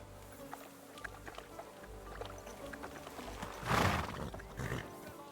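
Horse in the medieval video game Kingdom Come: Deliverance 2 snorting and whinnying over soft clip-clop steps, with a louder burst of neighing near the end against quiet ambient background.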